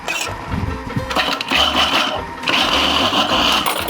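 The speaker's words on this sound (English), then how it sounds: "Now you start another 2-minute mixer." An electric mixer whirs steadily while beating egg yolks for a Caprese lemon almond cake in a cooking class, loud and close, with a shift in pitch partway through and no talk over it.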